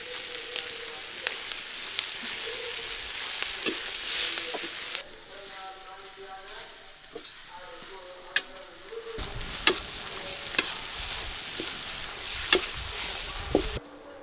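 Green chillies fry in a pan while being stirred, giving a continuous sizzle with scattered scraping clicks from the utensil. The sizzle drops briefly in the middle, then returns loud and close.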